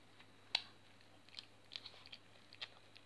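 Chewing on edible homemade slime, a sticky sweet icing sugar paste, heard close and quiet as a few soft, irregular wet crunchy bites and mouth sounds over a faint background hum.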